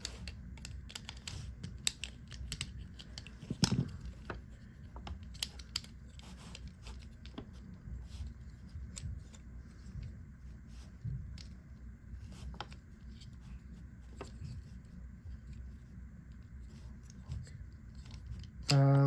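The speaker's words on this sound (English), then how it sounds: "I'm going to use my scissors." Quiet, crisp snips and rustles of scissors working through the packaging of a Transformers Hot Wheels toy, scattered irregularly and close by, with a louder crinkle at the end.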